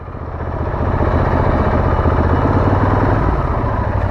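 A Royal Enfield 650 motorcycle engine with an overcharging fault, held at about 2000 rpm, produces a loud, close, steady mechanical drone that swells in during the first half second and then stays constant.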